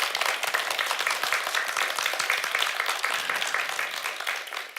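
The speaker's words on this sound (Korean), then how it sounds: "한번 박수 한번 보내드리죠" Audience applause at a church worship lecture, a dense, steady wash of many hands clapping that holds evenly for the whole stretch at moderate loudness, with no talking over it.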